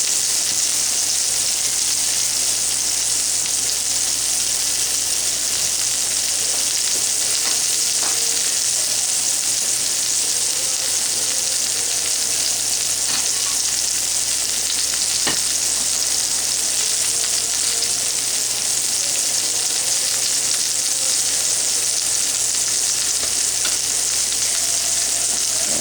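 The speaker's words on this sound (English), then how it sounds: "you definitely want it to keep sizzling on the bottom like that" Steady, loud sizzling from a tuna steak searing in a hot pan, continuous and unbroken, with no voices.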